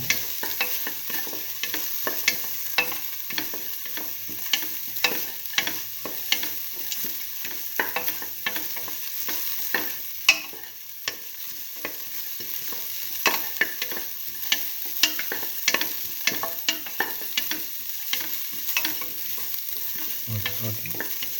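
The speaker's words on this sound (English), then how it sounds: "Saute and mix thoroughly." Split mung beans, tomato and rice sauté in a pan with a steady sizzle, while a spoon scrapes and stirs in frequent light clicks and taps throughout.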